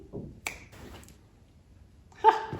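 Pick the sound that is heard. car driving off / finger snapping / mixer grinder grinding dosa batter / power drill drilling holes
finger snapping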